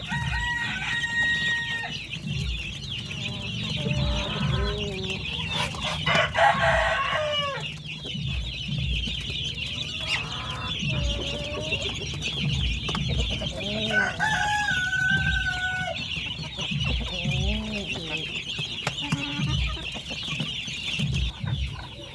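Chocolate Orpington chickens cluck and chatter close by, with several overlapping birds, occasional drawn-out calls and a crow-like cry, going on steadily throughout.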